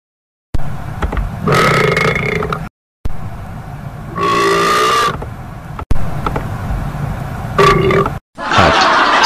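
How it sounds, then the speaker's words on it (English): Several loud, drawn-out burps in separate bursts, each a deep croaking belch, close up and alone between brief silences, from a blooper reel. "Say excuse me when you burp next time."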